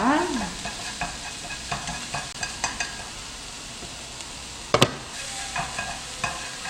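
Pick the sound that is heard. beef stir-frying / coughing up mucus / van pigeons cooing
beef stir-frying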